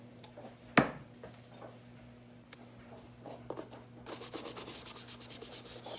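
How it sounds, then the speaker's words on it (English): A stiff brush scrubs the sole of a Crocs shoe back and forth in quick repeated strokes, growing louder and steadier near the end, with no talking. "Scrub it real good."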